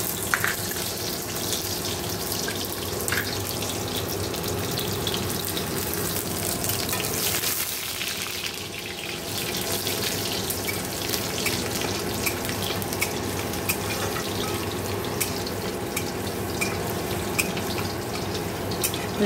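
Crushed garlic frying in hot oil in a wok, a steady dense sizzle that carries on close and fairly loud, with faint clatter and a watery crackle underneath and no voices.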